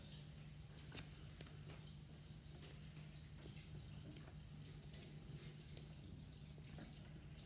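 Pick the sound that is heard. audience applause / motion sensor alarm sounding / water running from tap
water running from tap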